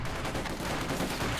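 Sustained rattle of a Maxim machine gun in the video game Company of Heroes 2, a dense, fairly faint stream of rapid fire in a busy battle mix.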